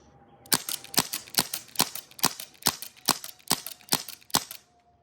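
Elite Force H8r airsoft revolver firing on CO2, about ten sharp, evenly spaced pops in a steady rhythm, close and clear with no talking.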